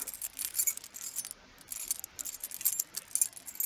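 Old keys jangle and clink in quick, irregular bursts, close and fairly crisp, with brief pauses between shakes.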